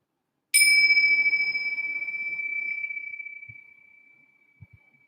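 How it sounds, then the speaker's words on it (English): A single bell is struck once and rings with a clear, sustained tone that slowly fades over several seconds, with a few soft thumps near the end. "Coming here with the sound of the bell."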